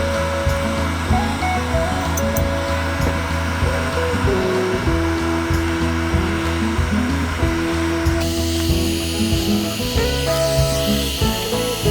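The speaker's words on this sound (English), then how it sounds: "they said to use a heat gun to take it off" A heat gun blows a continuous, fairly loud whirring hiss while butyl tape is softened and removed from a vintage Airstream trailer during its renovation. The sound is steady throughout, with a slight change in tone partway through.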